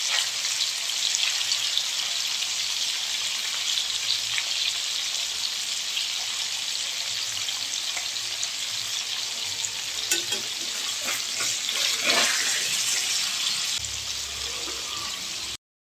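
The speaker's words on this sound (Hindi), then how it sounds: "थोड़ा थोड़ा करके फ्राई करूंगी।" Paneer pieces frying in a pan, a loud, continuous bright sizzle that holds steady throughout, with a few faint clinks and scrapes partway through.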